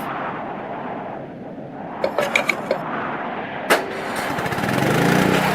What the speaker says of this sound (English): Great! The engine's working!